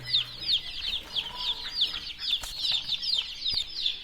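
Quails chirp in quick, repeated high calls that run steadily throughout, with a faint low hum and soft rustling underneath.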